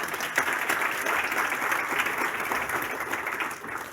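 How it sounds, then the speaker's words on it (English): Sustained applause from a conference audience for an industry panel, a steady wash of clapping that holds for several seconds before easing slightly at the end. "a round of applause for the panel, please"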